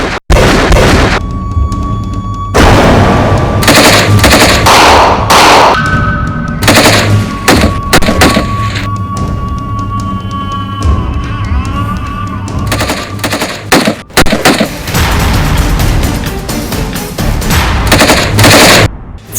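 Heavy gunfire fills a battle scene in a Sindh Rangers versus terrorists game, with loud, sustained machine-gun bursts, booming shots and ringing tones layered densely and continuously.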